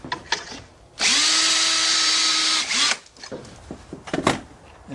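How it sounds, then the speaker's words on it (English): A power drill boring a hole through an angled Kreg deck jig guide into deck wood beside a house, a loud steady whine lasting about two seconds, framed by clicks and handling noises before and after. "and drill this hole."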